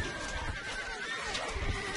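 A horse whinnies amid a dense, noisy background with faint clopping, a video game effect from Stronghold Crusader.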